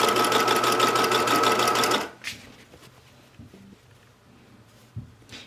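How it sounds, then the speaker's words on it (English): A sewing machine edge stitches binding on a coat in a steady two-second run, then stops, leaving quiet handling sounds and soft clicks. "And then I'm just going to edge stitch"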